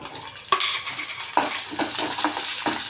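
Dal and garlic sauté in a pan for a Tamil-style chutney, a soft sizzle under a few sharp stirring scrapes and clinks from a utensil against the pan, close and moderately quiet.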